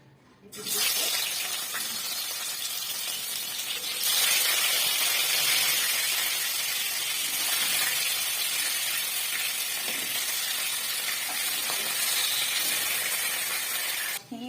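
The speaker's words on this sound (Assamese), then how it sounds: "তেলখিনি গৰম হৈ গ'ল, এতিয়া মাছবোৰ দি দিম।" Steady, loud sizzling and hissing of fish frying in hot oil, continuous throughout with a slight surge partway through.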